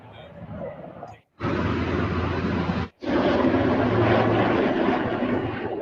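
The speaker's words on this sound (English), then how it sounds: "Three helicopters flying over the reflecting pool." Three helicopters fly low over the reflecting pool, giving a loud, continuous rotor and engine roar that is broken by two short cutouts, with talk partly heard over it.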